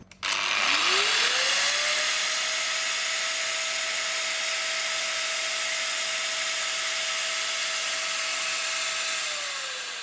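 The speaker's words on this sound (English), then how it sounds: "So if I start the grinder up." An electric grinder powered through a Merlin pure sine wave DC/AC power inverter spins up with a rising whine, settles into a loud, steady high-pitched hum, then begins winding down at the end.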